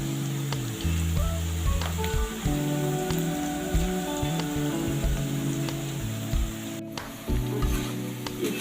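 Cabbage pakoda frying in a pan of hot oil, a steady loud sizzle and crackle throughout, close, without talking.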